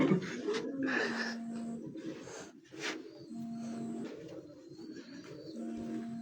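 Pigeons coo on a rooftop loft, their soft repeated calls mixed with rustling and other background noise. A voice talks intermittently over them at close range.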